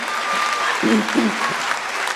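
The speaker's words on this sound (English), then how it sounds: "we'll hold our applause there" Applause and crowd noise at a 2013 Emmanuel College commencement ceremony, moderate and steady through the short stretch, with a brief voice-like sound rising partway through.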